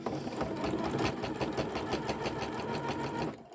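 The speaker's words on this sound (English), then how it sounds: "now I'm top stitching with the yellow thread matching the rest of the dress" A sewing machine runs steadily, top stitching a denim dress made from upcycled jeans with yellow thread at a fairly long stitch length, a close, continuous whirring drone with a fast needle rhythm that stops near the end.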